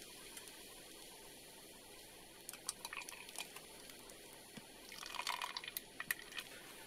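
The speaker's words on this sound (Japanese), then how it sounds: "ペットボトルを押すことで浄水。" Sawyer Mini portable water filter dripping as a plastic bottle is squeezed, faint irregular drips and trickles that grow denser toward the end, quiet and close with no talk.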